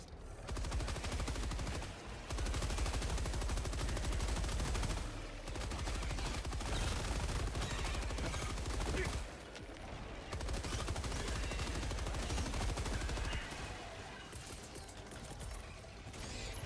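Sustained automatic gunfire and explosions from a Helldivers 2 battle, loud and dense almost throughout with brief lulls, with a voice speaking occasionally under the combat.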